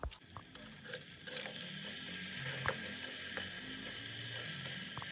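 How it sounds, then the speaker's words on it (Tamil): Chopped tomato, onion, carrot, peas, beans and mint sautéing in a pan, a soft steady sizzle with occasional scraping and stirring clicks, fairly faint and close, with no voices. "இப்போ நான் இதெல்லாம் போட்டு நல்லா வதக்கி எடுத்துக்கலாம்."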